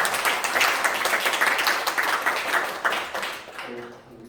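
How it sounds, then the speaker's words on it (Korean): Congregation applauding during a Korean church worship service, a steady burst of clapping that fades out toward the end, with a hint of voices underneath. "여러분 박수 좀 쳐주세요."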